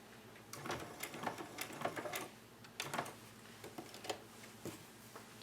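A home sewing machine back stitches seams on a homemade protective mask in short bursts of rapid ticking, stopping and restarting several times, close by and fairly quiet.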